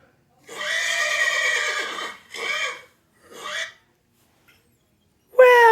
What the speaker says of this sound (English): I'm pretty sure it's a horse